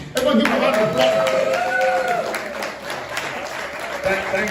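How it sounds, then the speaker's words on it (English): Audience clapping steadily at a professional speaker school reunion event, welcoming a guest onto the stage, with voices and cheers mixed into the applause. "please, everyone give him a round of applause."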